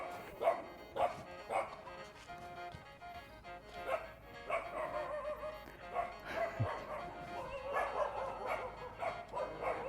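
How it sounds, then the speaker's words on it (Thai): A small dog barks repeatedly at Wat Tha Hin Ngom temple in Chaiyaphum, Thailand, a rapid series of close, yappy barks and whimpers that continue throughout. "หมามันเห่าผมนะครับ"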